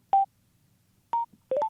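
Short electronic activation chimes from a phone voice assistant, heard through an HJC Spirit motorcycle helmet headset: one tone, a pause, a second tone, then a quick rising three-note sequence, clean and close with near silence between.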